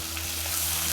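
Red chili sauce being stirred into paneer kung pao in a pan over low heat, a steady close sizzle with soft continuous scraping, no voices.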